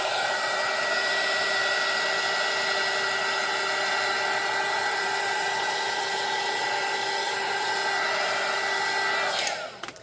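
A hair dryer runs steadily and loud to dry acrylic paint swatches mixed to look iridescent, one continuous blowing whoosh with a steady whine that cuts off abruptly at the end.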